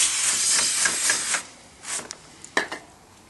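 Carb cleaner aerosol sprayed onto the intake manifold of a 2001 Chevy Tahoe during a gasket job, a few close, sharp hissing bursts of varying length separated by short pauses.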